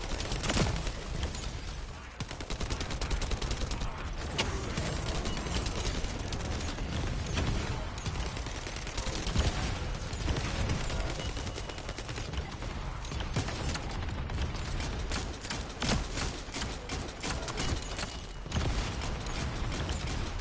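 Hand cannon gunfire in the First Descendant shooter game, a steady run of sharp mechanical shots and clanks forming a dense, continuous barrage of combat noise with no talking.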